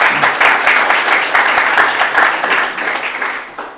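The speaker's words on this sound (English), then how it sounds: "Let's give him a round of applause." An audience at an eighth grade speech event at a school gives sustained applause for a student's uncle, a dense steady wash of many hands clapping that tapers slightly at the end.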